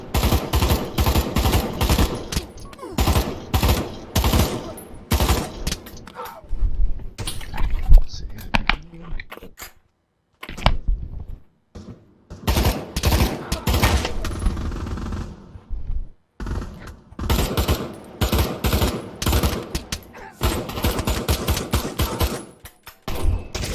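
Rapid automatic gunfire from the Pavlov VR shooter game, rattling in long bursts with a few short pauses and separate single shots, loud and close, with a little talk mixed in.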